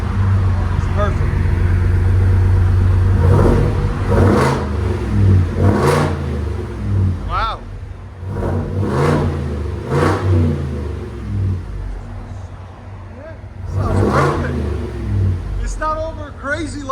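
Ford F-250 with a 7.3L V8 and muffler-delete exhaust, heard from inside the cab as a loud engine rumble rising in several sharp revs, with people talking over it.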